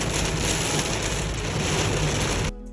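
Rain falls steadily on a grey winter day as a constant, dense hiss with a low rumble underneath, close and fairly loud, then cuts off abruptly near the end.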